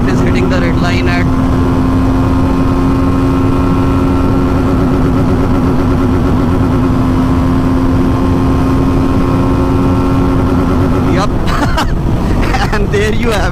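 TVS Apache RTR 310 motorcycle engine roars at high revs near the red line during a top speed run, a loud, steady droning tone that holds throughout before a brief buffeting change near the end.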